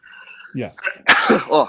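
A single loud, explosive sneeze bursts out after brief murmured speech, with a short voice following right after it, close to the microphone during a casual football discussion.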